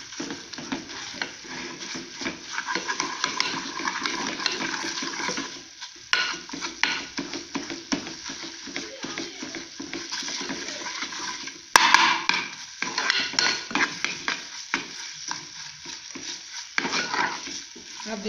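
Aloe vera karahi curry cooks in ghee in a pan, with a steady sizzle and frying hiss under repeated scraping strokes of a spoon stirring, continuous and fairly close over the whole stretch, with no talking.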